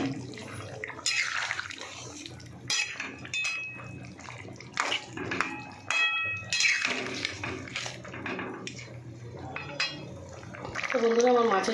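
Water poured into a pan while making Bengali fish curry, a close splashing, trickling pour in several bursts with pan clatter, under someone talking softly.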